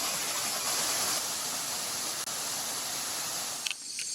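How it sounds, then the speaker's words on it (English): A twin waterfall in the Royal Belum rainforest of Malaysia roars as a steady, dense rush of falling water, close and continuous, with a brief dip near the end. "It's not every day that you see a twin waterfall."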